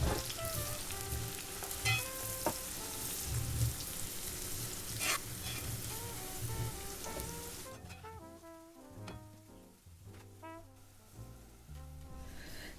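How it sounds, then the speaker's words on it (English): Onions frying in a pan for chicken biryani, a continuous crackling sizzle up close, with occasional stirring scrapes and clatters and no voices. "let me go fry the onions now because I want to add some of the onions to this"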